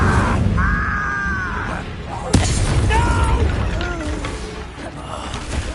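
An Incendio fire spell fires in the video game Hogwarts Legacy as a sharp burst over a dense rumbling battle bed, with tonal musical or magical swells and voices around it.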